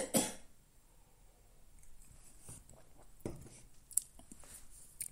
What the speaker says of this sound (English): I am going to have a big cough.